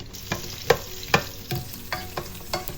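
Onions and garlic frying with mince for a budget cottage pie, stirred in a pan with a spoon that scrapes in several distinct strokes over a steady low sizzle, close up with no voices.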